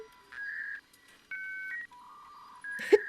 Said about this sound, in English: Dial-up internet!